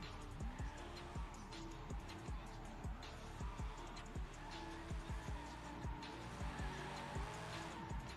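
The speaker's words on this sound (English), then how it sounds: "The boys are getting the tires warm." Drift cars in the Forza racing game spinning and warming their tires on the line at Ferropolis, with repeated tire squeals and engine revs over a steady, fairly faint motor drone.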